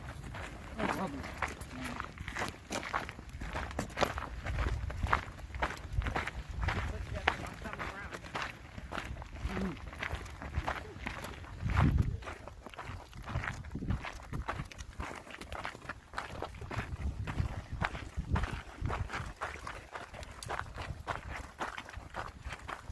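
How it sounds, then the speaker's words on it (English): Footsteps crunch steadily on an outdoor trail during a quiet night hike, a close rhythmic tread continuing for a long stretch with soft talking mixed in at times. "the only thing we're hearing is our footsteps"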